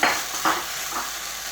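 Onion sizzles and crackles in a hot pan for pizza bite filling, with a couple of soft stirring scrapes over a steady frying hiss, close and alone.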